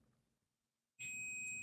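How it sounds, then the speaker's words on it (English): Digital multimeter beeping during a continuity test as the probes touch, a steady electronic tone switching on after a second of near silence and holding loud and unbroken to the end. "and then you will hear that beeping sound"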